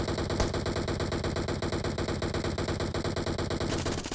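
Rapid automatic gunfire in PUBG Mobile, a steady stream of closely spaced shots that runs loud and close for several seconds, with a sharper burst near the start and a louder shift near the end.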